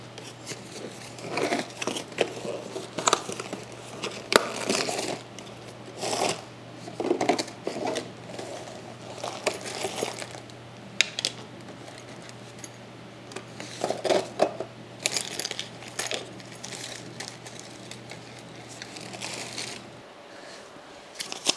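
KC Cyclone 2 under-hood pod lights are unboxed, with close, irregular rustling, crinkling packaging and light plastic clicks scattered over a steady low hum, with no talk.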